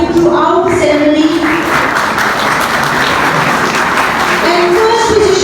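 At a college annual investiture and award ceremony, a large audience claps in loud, sustained applause as a voice comes through over the clapping at the start and again near the end.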